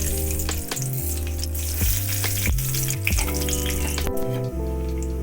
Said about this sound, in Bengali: মাছ ভাজার তেলে একটা শুকনো লঙ্কা আর একটু কালো জিরে ফোড়ন দিলাম।